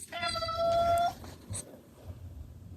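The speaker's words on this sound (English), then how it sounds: "should we say hi to the cats?" Two house cats meow indoors, one long, drawn-out tonal meow followed by a short second call, close and fairly quiet, with faint background hiss and no talk.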